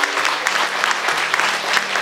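Lively applause from a gathered audience at a Rotary Club art event inauguration, dense close clapping with individual claps standing out in a steady rhythm over about two seconds.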